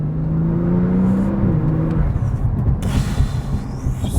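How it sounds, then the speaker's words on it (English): Porsche 911 sports car in sport mode, engine revving with a deep exhaust rumble that swells and settles, loud and close, with no popping or banging clearly standing out. "In sport mode, I start to hear a little bit more of the popping and banging. The exhaust becomes a little bit more pronounced"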